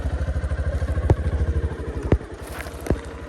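A motorcycle runs along a muddy, slippery road, its engine thumping in a steady fast pulse up close, with a few sharp clatters and scrapes from the wheels along the way.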